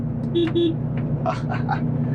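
Two short, high beeps from the small horn of a Volvo FH truck sound close together over a low engine idle, followed by brief chirpy tones.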